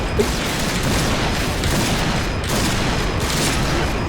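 Rapid, continuous gunfire in the online shooter Point Blank, dense and loud for the whole stretch with no pauses, with a slightly sharper burst near the start and no talk over it.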